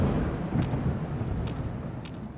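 A deep, continuous rumble of thunder in the video game Fallout 4, rolling on throughout, with faint rain-like hiss and a few light ticks on top.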